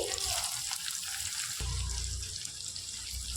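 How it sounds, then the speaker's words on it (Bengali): Thinly sliced onions sizzle and hiss in hot oil in a pan, a soft, steady frying sound with a low rumble joining partway through. "পেঁয়াজটাকে আমি হালকা করে ভেজে নেব।"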